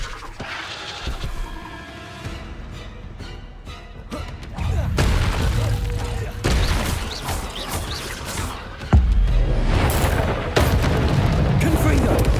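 Confringo fire spell explosions in the Hogwarts Legacy video game, heavy booming blasts over a rumbling low-end combat bed, with a sharp loud burst near the end and spoken voices mixed throughout.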